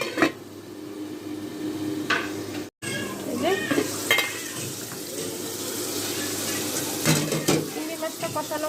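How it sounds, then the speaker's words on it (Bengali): Shrimp being stir-fried in a pan for a Malabar spinach dish, with a steady sizzle and occasional stirring scrapes and clinks of the utensil against the pan, close up, without talk. "চিংড়ি মাছটা দিয়ে আমি একটু কষিয়ে নেব।"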